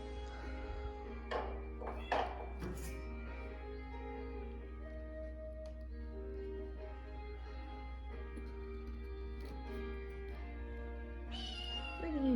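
A cat meows several times indoors in a tractor shed, its cries rising clearly over a steady low hum, with light taps scattered between calls.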